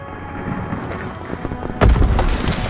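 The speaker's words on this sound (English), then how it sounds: "Grenade out!" Grenade blast in Call of Duty WW2 erupting about two-thirds of the way through as a sudden heavy boom with a rumbling low-end tail, following a stretch of steady battlefield ambience and scattered thuds.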